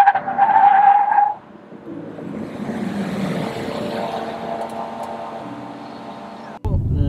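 A BYD Tang EV with Brembo brakes stopping hard, a loud drawn-out roar and tyre hiss that fades over several seconds, ending in a low thump, with a high whine near the start.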